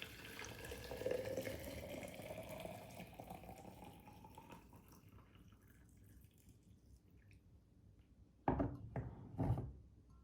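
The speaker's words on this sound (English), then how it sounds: "Now I'm going to add boiling water to the tea." Boiling water pours steadily onto herbal tea in a container, the pitch rising as it fills, then stops; a couple of clinks and drips follow.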